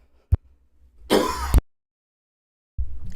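A short, sharp throat-clearing cough, then a louder rough hacking cough, followed by silence and another low, raspy burst at the end.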